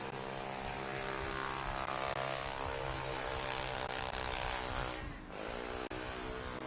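A camera drone flies overhead at a UTV short-course race, a steady buzzing propeller whine with dense harmonic layers, constant and fairly loud, shifting pitch briefly as it passes.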